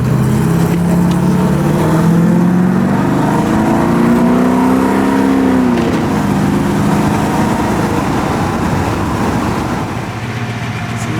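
A Porsche 928 engine runs steadily and loudly up close, a droning note that wavers slightly and occasionally seems to stumble as if missing a beat, with no talking.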